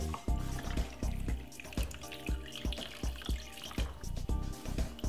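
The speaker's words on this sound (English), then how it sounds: "And pour some ginger beer." Homemade Jamaican ginger beer pours over ice into a glass in a continuous liquid splash and trickle, with steady rhythmic background music throughout.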